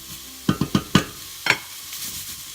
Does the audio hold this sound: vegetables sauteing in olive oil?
yes